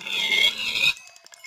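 A pig in the Minecraft video game gives a short, loud, raspy grunt followed by quieter game sounds.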